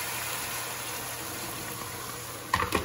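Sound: pouring boiling water into a pan

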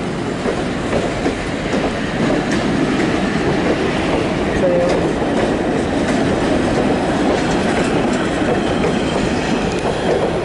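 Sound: freight train passing

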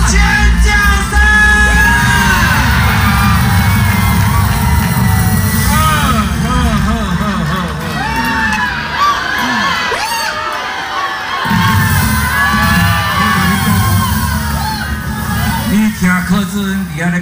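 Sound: crowd screaming and cheering at election rally

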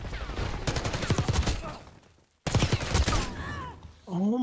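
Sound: sniper rifle shots in a video game

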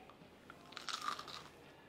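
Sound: biting crunchy banana peel vegan fish fillet

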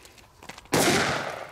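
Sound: D firecracker from Funke exploding, P1 variant

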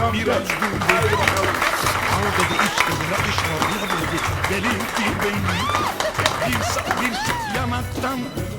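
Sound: wedding guests applauding the groom

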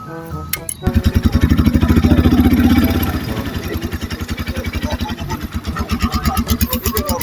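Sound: Motorstar motorcycle engine idling

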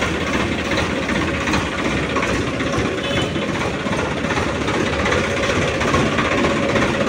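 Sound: Swaraj 855 tractor engine running

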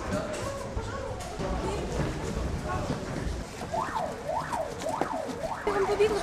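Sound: fire alarm

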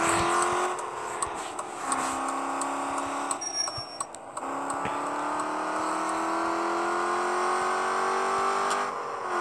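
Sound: Audi A6 V8 engine with straight exhaust pipes driving

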